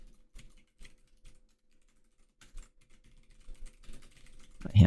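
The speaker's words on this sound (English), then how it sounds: "My hands are cold when I'm typing slowly." Slow keystrokes on a computer keyboard come in sparse, light clicks, growing busier and faster toward the end, where a louder low thump closes the stretch; no voices.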